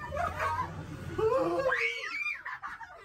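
People scream and shriek inside a horror house attraction in Ooty, with voices rising into high wails and some laughter mixed in, loud and close.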